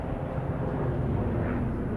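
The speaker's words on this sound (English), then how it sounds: "Excuse the helicopter going overhead." A helicopter passes overhead near a parked 2002 Mercedes CL 500 coupe, giving a steady, dense low rumble that holds at an even level throughout with no talk.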